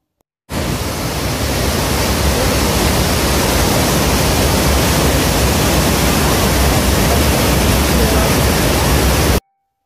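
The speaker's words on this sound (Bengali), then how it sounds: "গুহার ভেতর থেকে ঠিক এইরকম কাছে দেখা যাচ্ছে ঝর্ণাটা।" Rhine Falls waterfall heard from inside a cave right beside the falling water: a loud, steady, broadband roar of crashing water, continuous and unbroken from start to finish with no other sounds standing out.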